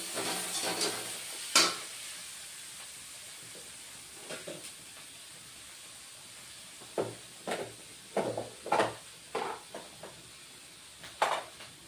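Ginger-garlic paste sizzles and spits in a hot pan for a Bengali katla fish kalia, with a steady hiss broken by irregular crackling bursts and stirring scrapes, close and moderately loud, no talking.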